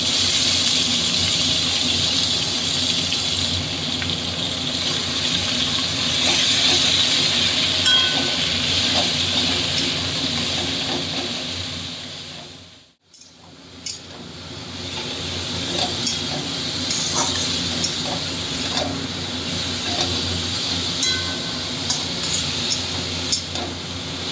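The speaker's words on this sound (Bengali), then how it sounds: "এবার আমি মাখানো রাখা শাকটা তেলে দিয়ে দিচ্ছি" Mustard greens frying in hot oil give a loud, steady hiss and crackle that briefly cuts out midway and then resumes with scattered pops.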